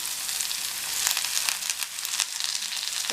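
Drumstick leaves sizzle steadily in hot oil in a pan for a dry leafy stir-fry, a dense crackling hiss with faint scraping, no voices.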